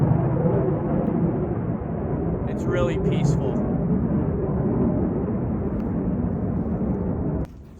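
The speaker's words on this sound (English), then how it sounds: "You hear the fighter jets." Fighter jets roar overhead as a steady, loud, low rumble that fills the whole stretch outdoors during maple sugaring work, with a person talking over the noise.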